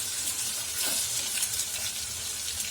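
Tomatoes cooking in a pan for a Tamil-style maravalli kilangu (tapioca) snack, giving a steady, soft sizzle with faint bubbling and occasional stirring, close by and without speech.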